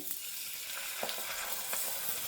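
Homemade chilli oil hits a hot pan of rice-paper blanket dumplings, setting off a bright, continuous sizzle with small crackling pops scattered throughout, close and fairly quiet, with no voices.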